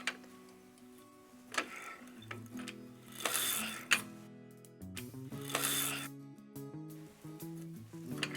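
The crank of an LT150 knitting machine turns close by, giving rhythmic clicks and ticks with soft sliding swishes across the rows, quiet and with no talk.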